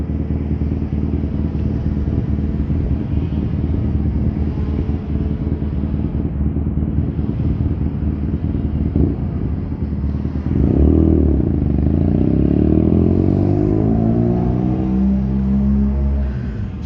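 A motorcycle passes on a road, a steady engine rumble that swells as it nears and shifts pitch as it goes by, loud and alone with no talking.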